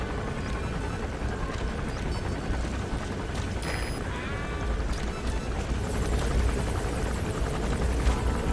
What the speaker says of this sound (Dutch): De helikopter is zo close, hè.